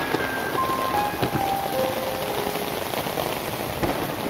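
Rain falling at dusk during an evening journey, a steady dense hiss of drops that stays even throughout, with no voices over it.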